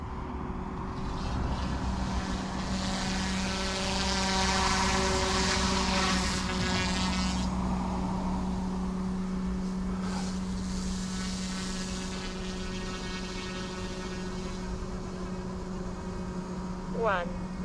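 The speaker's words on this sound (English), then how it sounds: "On a nice little heli." A small OMP M2 EVO RC helicopter hovers, its rotors making a continuous, even buzzing drone with a tonal whine that holds steady throughout, ending in a brief higher chirp.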